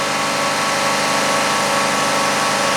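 A Chevrolet Equinox engine, one that loses power intermittently, runs steadily at high RPM with a loud, even drone and no break, close to the listener and without voices.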